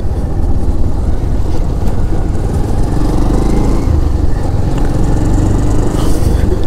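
Continuous motorcycle engine drone and wind rush during a winter-morning bike ride from Durgapur toward Hinglo Dam, steady and close throughout with no talk.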